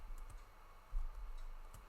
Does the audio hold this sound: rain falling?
no